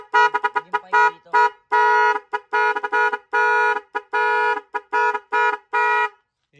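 A compact car horn, number 5 in a set, honks in a rapid irregular pattern of short and longer blasts, loud and close, with no talk.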